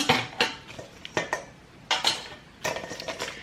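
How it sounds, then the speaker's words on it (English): Seafood boil pieces being laid into a pressure cooker, producing several close metallic clanks and knocks of pot and utensils at irregular intervals, loud and without speech. "I'm gonna lay them in my pressure cooker"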